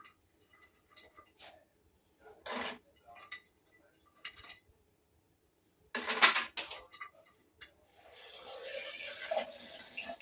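About three cups of water poured into a blender jar over coconut pieces: scattered clinks and short splashes, then a steady, fairly loud rush of pouring water in the last few seconds, with no one talking.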